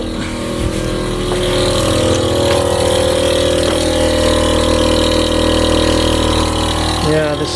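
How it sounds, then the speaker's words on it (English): An Airlift 3P air suspension compressor runs on a BMW E46 wagon, giving a steady, loud mechanical hum and whine that continues unbroken, with a brief clatter near the end. "There's one compressor on."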